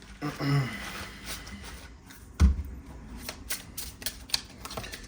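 Tarot cards are shuffled close up in quick riffles and soft slaps, scattered clicks and flutters spread across the stretch while a person talks intermittently.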